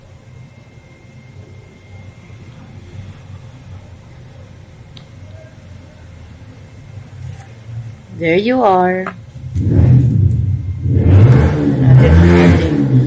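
A brief motorcycle engine revs and rises in pitch in the background from a neighboring motorcycle shop, then a person speaks up close, their voice over the lingering engine noise.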